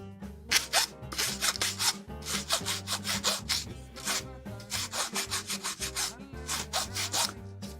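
A small file or sanding stick rubs back and forth on a Bandai 1/144 HG Gundam plastic model kit part, cleaning up a nub. The strokes are rhythmic, close and scratchy, repeating steadily with brief pauses.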